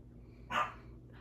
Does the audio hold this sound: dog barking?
yes